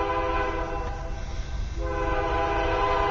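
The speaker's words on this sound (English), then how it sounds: "as you can hear, we have a train coming" A train horn blares loud and sustained as a train passes close to a backyard beside the tracks, a steady harmonic blast that dips briefly midway over the rumbling rail noise.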